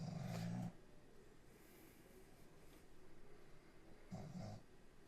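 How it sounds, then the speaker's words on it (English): Two soft snoring breaths from a pug, separated by a few seconds of quiet, faint and low. "you're probably hearing some snoring in the background"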